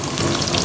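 Okra frying over high heat in a pan gives a loud, close, even sizzle, a brief unbroken wash of hiss.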